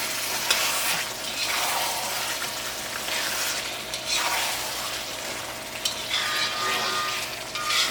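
Chicken roast frying in a pan is stirred, a steady bubbling sizzle broken by repeated scraping sweeps of the spoon at a slow, even pace, close and moderately loud.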